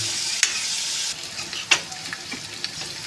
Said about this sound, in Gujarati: ડુંગળીને લસણ લીલા મરચાં અંદર નાખી દીધા છે જો તેલમાં ફ્રાય થવા માટે